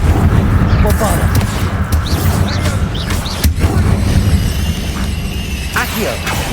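Booming Bombarda spell blasts in Hogwarts Legacy, loud and continuous, with a deep rumbling bed, sharp cracks around three and a half seconds, and swirling magical whooshes layered on top.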